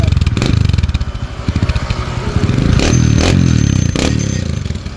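Motorcycle engine revving through a 304 stainless steel exhaust pipe, a close, loud, rapid pulsing idle that swells into a couple of throttle blips, with faint clatter around it.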